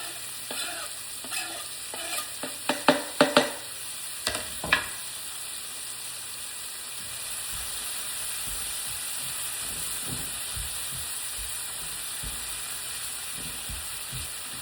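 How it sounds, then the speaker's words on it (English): Garlic hits hot oil in a pan for lomo saltado, starting with a few sharp stirring clacks and bursts, then settling into a steady, close sizzle and hiss that runs on alone. "Now I'm gonna add garlic."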